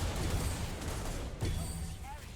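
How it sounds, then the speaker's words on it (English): Repeated bursts of gunfire-like blasts from the husk cannon, a flamethrower weapon in a video game, fire steadily at close range, with a sharper hit midway and a brief rising tone near the end. "Husk a cannon is a flamethrower weapon."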